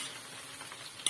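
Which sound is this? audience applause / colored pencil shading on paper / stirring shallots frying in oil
stirring shallots frying in oil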